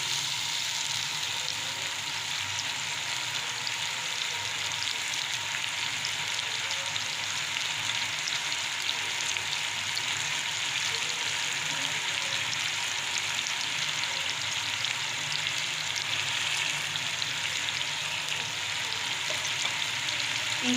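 Spices fry with mash dal in a pan, a constant even sizzle and crackle that holds steady and close throughout, with no voices.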